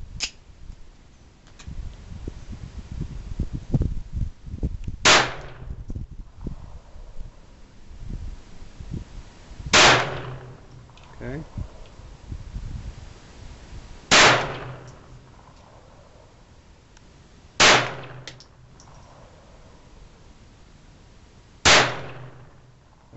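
Five sharp, loud handgun shots at a shooting range, spaced several seconds apart and each ringing out briefly over a low background rumble.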